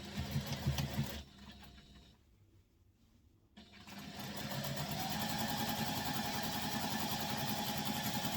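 A sewing machine runs close and loud, stitching the sides of a fabric wristlet, with a short burst, a pause, then a long steady run to the end.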